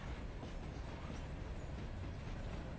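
A passenger train runs in the railway simulation game Railroader, giving a quiet, continuous rumble and clatter of rolling rail cars with no voices over it.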